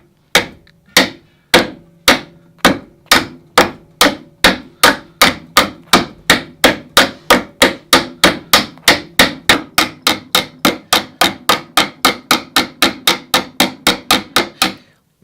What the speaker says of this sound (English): with our ball peen hammer, we want to just take little glancing blows off the edge of that rivet to start with.